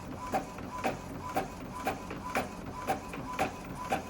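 An Epson EcoTank 2400 inkjet printer prints a page with a steady, evenly spaced mechanical clacking of the print head about twice per second, fairly quiet and close.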